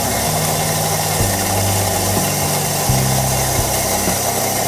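A Mazzer MB 600 coffee grinder grinds espresso beans with a loud, steady motor drone and shifting low-pitched whirring steps, continuous and close, with no talk.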